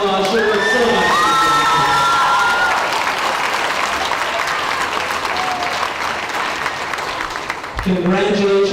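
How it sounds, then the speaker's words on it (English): A crowd claps and cheers at the Logan County Fair royalty contest with sustained applause and whoops, while a voice speaks over the start and near the end. "So give her a big round of applause, she worked so much."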